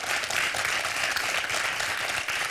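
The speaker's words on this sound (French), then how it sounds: "Moi aussi, je vous applaudis." A studio audience on a French TV quiz show claps in dense, steady applause that fills the whole moment without a break.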